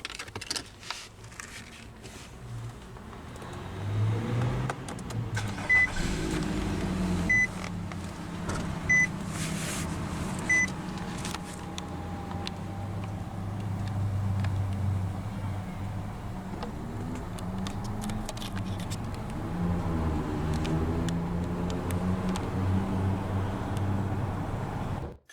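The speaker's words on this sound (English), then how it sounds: "let's go ahead and start her up. It does have smart key access and push-button ignition." A 2019 Nissan Rogue SL with smart key and push-button ignition: several soft electronic chimes over a low steady engine hum as it starts and settles into a quiet idle.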